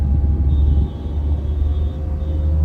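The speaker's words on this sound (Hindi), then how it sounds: "और बाहर इंजन का है वो कैसा साउंड मतलब कि क्रिएट कर रहा है एसी चलने पे" A Tata Intra V20 pickup truck's engine runs steadily with the air conditioning switched on, a continuous low rumble with a thin whine riding above it, loud and even throughout.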